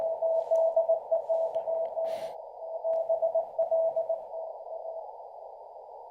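Morse code from an amateur radio station being hunted for parks-on-the-air contacts, a steady stream of keyed sidetone beeps at a single pitch, loud and continuous for about five seconds with a brief burst of static midway.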